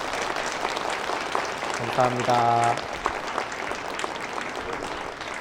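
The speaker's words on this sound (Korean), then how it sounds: "우리가 큰 박수로 위로해 주셨으면" A Korean church congregation claps steadily in the sanctuary, the applause running as a continuous background wash for several seconds while someone briefly speaks over it.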